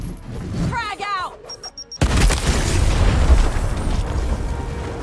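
A frag grenade detonates in the Gears Tactics video game, a sudden loud broadband blast about two seconds in followed by sustained rumbling debris and battle noise, after a brief shouted game voice line.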